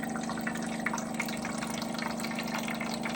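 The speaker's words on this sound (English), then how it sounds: "we're gonna fill it all the way up with water" Water pours steadily into the reservoir of a Bartesian cocktail machine, a constant close gushing fill with a low pump-like hum beneath.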